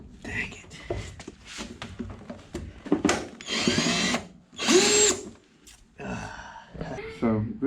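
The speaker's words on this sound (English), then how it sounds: "all it's doing is drilling out the hole" A power drill spinning screws in the new transom wood of a 1964 Alumacraft boat, heard as several whirring bursts of varying length, close and fairly loud, with talking and brief pauses between them.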